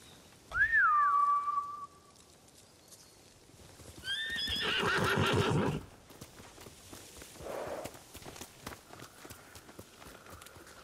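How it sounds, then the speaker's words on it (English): Horses neigh and whinny in two loud bursts in the video game Ghost of Tsushima, followed by hooves clip-clopping and quieter shuffling sounds, with a faint whistle-like tone. "Bastards scared off the horses."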